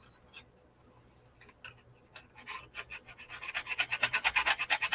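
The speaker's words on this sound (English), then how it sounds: "it's a good little sander" A small, inexpensive electric sander running, starting quietly with scattered scraping and building to a loud, steady, rhythmic rasping pulse in the last two seconds, with no voices.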